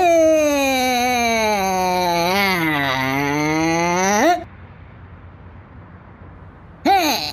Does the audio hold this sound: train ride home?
no